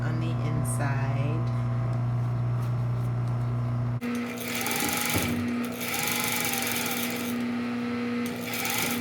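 Domestic sewing machine with a narrow presser foot stitching a zipper fly, a steady mechanical hum that shifts to a rougher buzzing rattle midway, close and continuous with some handling noise.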